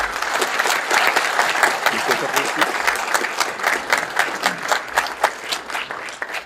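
Applause fills the room at an annual police awards ceremony as an officer's retirement is honored, a strong, crowded clatter of clapping that holds steady, then thins toward the end with a few louder individual claps standing out.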